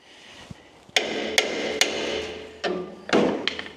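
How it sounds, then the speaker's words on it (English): Hammer blows on a tight track rod end joint on the front axle of a Series 3 Land Rover: five sharp metallic strikes in uneven rhythm, close and loud, with ringing clangs between them. "I'm going to hit it with a hammer"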